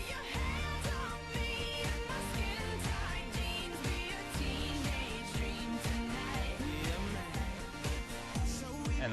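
Two pop songs blended in a top 40 DJ mix, with steady loud beats and dense layered music running throughout without pause.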